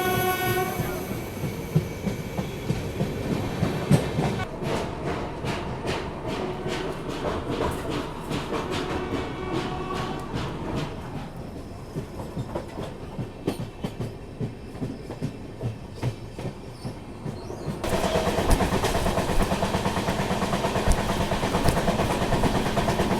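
A passenger express train heading into Moradabad Junction roars along with constant rail clatter and rumble, close and loud from on board, dipping slightly midway before a louder section with a horn-like tone at the end.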